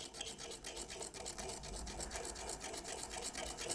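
A fiberglass cleaning pencil scrubs in gentle circles over a dirty coin, giving a steady close-up raspy rubbing with quick repeated strokes and no talking.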